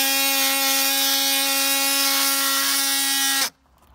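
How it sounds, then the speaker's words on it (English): An oscillating multi-tool cuts out rotted wood on a staircase being rebuilt. It gives a loud, steady, high-pitched buzzing whine that runs continuously and then cuts off abruptly near the end, leaving quiet. "use the multi-tool"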